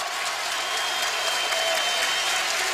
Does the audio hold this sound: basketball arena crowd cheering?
yes